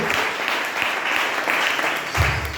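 Congregation applauding the Lord at a church service, a dense continuous clapping from many hands filling the room, with a brief low voice near the end.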